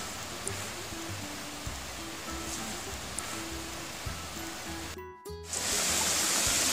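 Steady broadband rush of a waterfall along a hiking trail, continuous and moderately distant, with a brief handling bump near the end before the flow returns louder.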